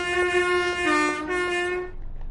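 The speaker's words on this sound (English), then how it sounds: "You've done a horn on the Pendolino" Pendolino train horn in the simulator game Train Sim World 6, one sustained two-tone blast lasting nearly two seconds, moderately loud, then cutting off into quiet cab hum.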